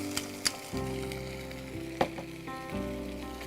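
Green chili paste frying in a pan for a paneer dish, a steady close sizzle with a few sharp crackles and spoon stirs, no talking.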